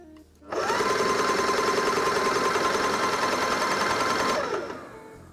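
Graco GXFF airless paint sprayer motor switched on in prime mode, a steady loud mechanical whir that starts abruptly, holds constant for about four seconds, then winds down; no talking.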